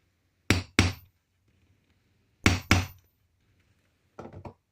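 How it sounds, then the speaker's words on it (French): A small hammer strikes metal eyelets during a shabby-style fliptag craft project: three pairs of sharp, loud double taps separated by silence, the last group lighter and quicker. "Donc moi je prends mon petit marteau"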